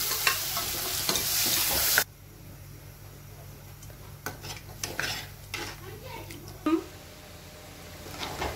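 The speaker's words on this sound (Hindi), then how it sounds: "और अब मैं इसमें अपने छोले ऐड कर रही" Chickpeas tipped into a pot of hot frying masala for pindi chole: a loud sizzle bursts for two seconds, then a spoon scrapes and stirs with intermittent clinks against the metal pot.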